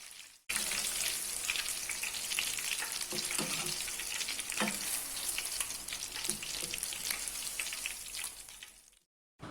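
Tofu and tempeh fry in hot oil for pecel lele, giving a loud, steady crackling sizzle with scattered pops that carries on unbroken for most of the stretch before cutting off near the end.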